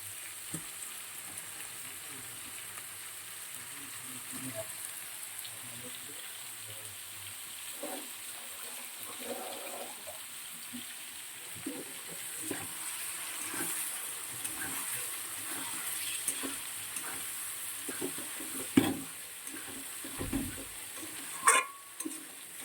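Fish pieces fry in a pan with a steady, even sizzle that runs throughout, broken by a few scattered light clicks and a couple of louder utensil knocks near the end.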